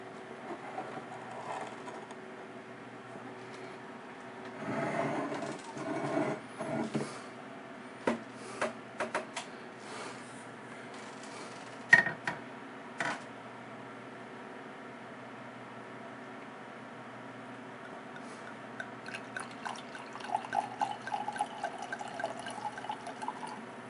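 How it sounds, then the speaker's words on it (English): Gazela Vinho Verde, a lightly sparkling Portuguese white wine, poured into a glass in soft liquid bursts with small clinks, trickles and fizzing, quiet and close, in a mostly hushed room. "let's pour some of the wine so we can check it out"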